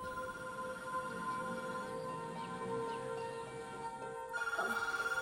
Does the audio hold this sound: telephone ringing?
yes